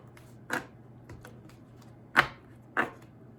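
Tarot cards being shuffled by hand: three short, separate riffling bursts with pauses between them, quiet and close, with no talking.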